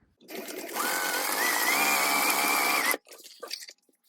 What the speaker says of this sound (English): I think I am gonna put a second row of stitching real quick.